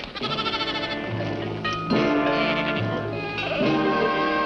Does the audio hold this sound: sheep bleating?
yes